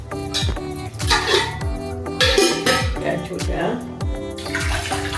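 Water is poured into a pot to make sugar syrup for gulab jamun, a splashing, gurgling stream with metallic clinks and knocks of the vessel, while someone talks briefly.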